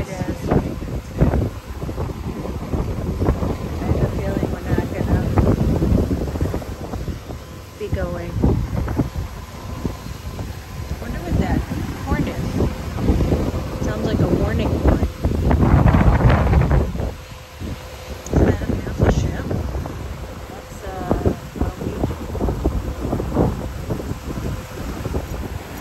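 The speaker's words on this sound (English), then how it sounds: "look at how windy it is" Strong wind roars and buffets the microphone for the whole stretch on the coast at Cozumel, gusting louder at moments, with what sounds like water and a boat in the background.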